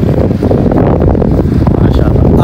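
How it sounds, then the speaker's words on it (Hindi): Strong wind buffets the microphone outside a railway platform, a steady loud low rumble with no distinct other sounds. "इधर हवा लग रही थोड़ी थोड़ी हुई है शुरू"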